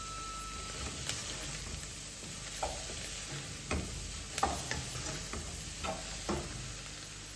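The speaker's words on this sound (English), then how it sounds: "Now I stirred it for some time and added the seasoning from the indomie." Noodle food frying in a pan is stirred as Indomie seasoning is added, giving soft, continuous sizzling broken by irregular scraping and clinking of the utensil against the pan.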